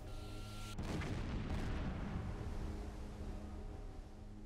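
A ship's deck gun fires in the Silent Hunter 4 submarine game, one heavy, booming shot that cuts through a steady engine hum and rolls away into a long fading rumble.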